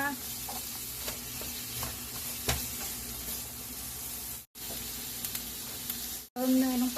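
Onions stir-fried in a pan for a shrimp macaroni dish, a continuous close sizzle with scraping stirs and light clinks, broken by two brief dropouts, with faint background noise.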